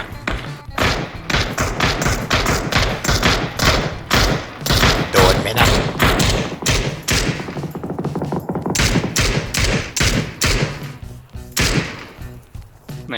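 Rapid bursts of gunfire in the battle-royale game PUBG, dense repeated shots and thuds running nearly continuously, loud and close, with some voices in the background.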